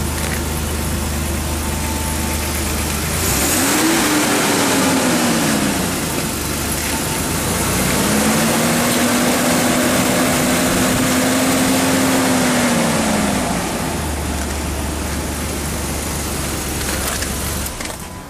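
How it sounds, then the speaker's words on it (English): A 3.7 litre V6 engine in a family wagon cranks over and catches, then settles into a steady, close idle with a brief revving swell midway, heard alone without talk. "I'll just fire it up for you so you can have a quick listen to the car"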